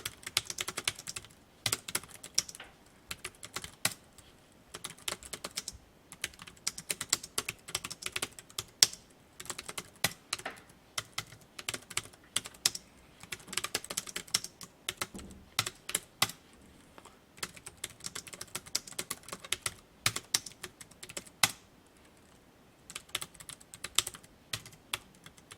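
Fingers type on a computer keyboard while a document is entered in Hangul word-processing software, producing close, rapid bursts of key clicks with short pauses between bursts. The typing goes on steadily for about half a minute with no voice.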